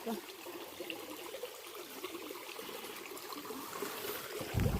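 Water flowing and trickling outdoors after rain, a continuous faint babbling stream with a brief louder splash at the end.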